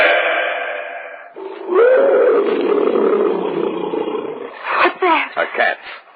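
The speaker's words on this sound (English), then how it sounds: "Probably a tiger somewhere in the jungle." A tiger roars in a jungle setting, a radio drama sound effect: a deep rising growl swells and rumbles for several seconds, then a few sharp snarling bursts follow, loud and close.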